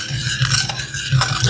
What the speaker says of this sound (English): I'm gonna keep stirring.